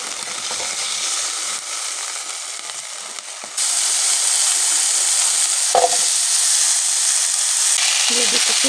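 Potatoes fry in a pan with turmeric and salt, giving a dense, continuous sizzle that gets louder partway through, with a few brief stirring clinks and scrapes.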